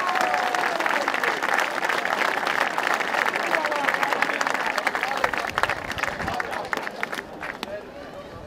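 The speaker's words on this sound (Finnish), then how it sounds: "Annetaan valtaiset aplodit, hyvät naiset ja herrat." Crowd applause at a town square festival in Kouvola, a dense, steady wash of clapping and cheering that holds loud for several seconds before thinning slightly toward the end, with crowd voices mixed in.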